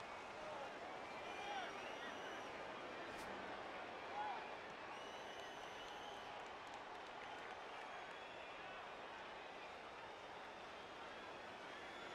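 Faint, distant crowd noise from a Blood Bowl 2 match, a steady low murmur and rumble of cheering that runs evenly throughout with no clear peaks.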